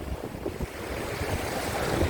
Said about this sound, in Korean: 아, 파도 오늘 살았네요.